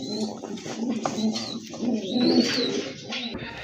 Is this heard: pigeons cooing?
yes